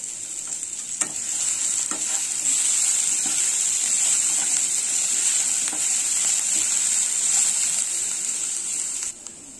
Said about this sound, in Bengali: তেল গরম করে তার মধ্যে ডুমো ডুমো করে কাটা পেঁয়াজ, লঙ্কা, আলু, একটু কালো জিরে আর তেজপাতা ফোড়ন দিয়ে ভেজে নিচ্ছি।